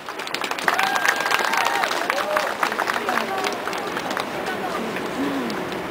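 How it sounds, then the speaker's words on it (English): A crowd at a Tibet rally applauds with dense, continuous clapping, mixed with cheering and murmuring voices, fairly loud throughout. "give a big round of applause for yourselves first"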